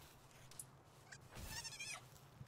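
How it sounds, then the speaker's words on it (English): A sheep creature in the Palworld video game gives a short, faint bleat, a wavering nasal cry heard briefly and alone over quiet background. "You're a very good sheep."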